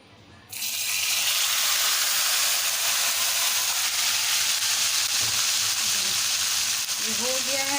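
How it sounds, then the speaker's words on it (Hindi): Tempering spices hit hot oil for a tadka on a curry with a sudden loud sizzle that holds steady and fills the whole moment, with a few faint scraping sounds near the end. "व्यूअर्स इसमें हम अब तड़का डाल रहे हैं और बहुत तेज़ उड़ेगा"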